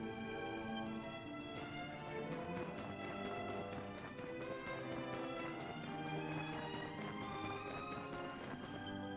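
Horse hooves clip-clop at a running pace in Dragon Quest XI S, a quick rhythmic tapping under layered game music that plays throughout.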